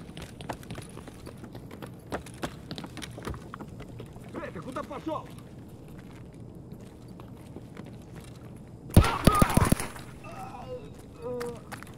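Burst of gunfire in the Escape From Tarkov Factory map, a loud cluster of shots around the middle of the scene standing out over quieter footsteps and ambient noise, with people talking throughout.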